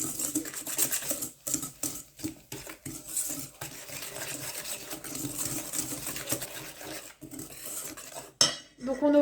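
Egg being mixed into almond cake batter in a bowl, a rapid, busy clatter of a whisk or spoon against the bowl in uneven bursts with brief pauses, close and without speech.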